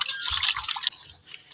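Water splashes and trickles as it is changed in a pet bird's water dish, a short burst of pouring that fades into light dripping.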